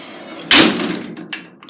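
An old gated lift door in Wellington slams shut with one loud metallic bang, followed by a rattling decay and a smaller clank about a second later.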